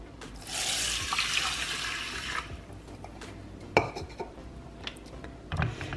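Water runs from a tap and pours onto rice in a microwave container for about two seconds, a close hiss, followed by sparse clinks and knocks of the container and utensils.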